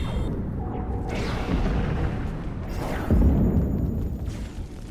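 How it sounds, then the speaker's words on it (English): A grenade blast in the game Star Trek Online, a booming burst with a whooshing rush, among steady battle noise and a second heavier thump later on. "Grenade."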